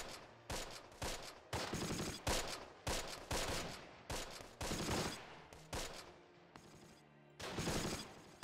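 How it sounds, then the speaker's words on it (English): Rifle fire in the Close Combat wargame, a steady volley of sharp, loud shots from several guns, firing in quick irregular rhythm with brief gaps, with no talking. "We still have a bunch of rifles firing at least"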